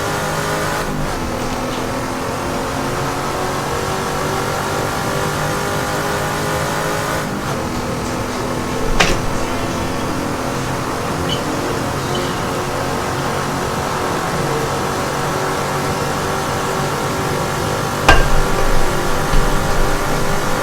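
A race car engine in the Assetto Corsa video game set at the 1971 IMSA Daytona race, running flat out with a sustained high, buzzing roar, shifting gears and surging in revs several times.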